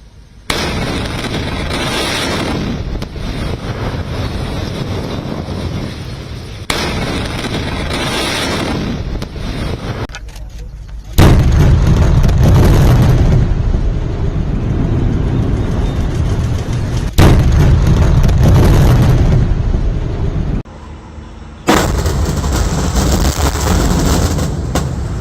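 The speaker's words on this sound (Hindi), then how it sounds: "महज 6 सेकंड में चांदनी चौक ब्रिज ध्वस्त हो गया" Explosive demolition of the Chandni Chowk bridge in Pune, heard as loud, sustained booming and crackling blasts in several long bursts, with brief drops between them and a sharp burst again at the end.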